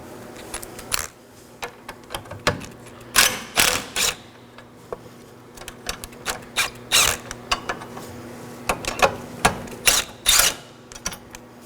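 A ratchet loosens the two 10mm nuts on the J-hook battery tie-down of a 2013-2019 Nissan Sentra, giving short clicking bursts in an uneven rhythm, close and fairly crisp, with a faint steady hum behind them.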